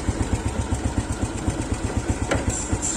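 A motorcycle engine idles steadily up close, with an even, rapid low thumping pulse and no voices.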